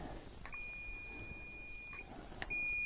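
A continuity tester beeps on the neutral indicator wire of a Suzuki SV650 motorcycle: a steady electronic tone holds for about a second and a half, cuts off, then sounds again after a sharp click.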